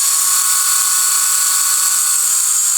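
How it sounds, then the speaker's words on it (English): A high-speed abrasive tool cuts off a part on a diesel XR500 motorcycle project, making a continuous loud, shrill grinding whine that holds steady throughout at close range, with no talking. "I use good old abrasives"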